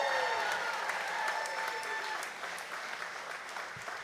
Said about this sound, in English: can we get another round of applause for them as they're going on stage?